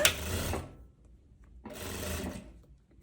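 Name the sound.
sewing machine stitching a thin hem on a dress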